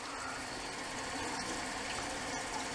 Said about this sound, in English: rinse the blade off